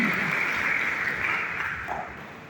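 Applause fills a hall during a scout leadership session, a sustained wash of clapping from the audience that fades slightly toward the end.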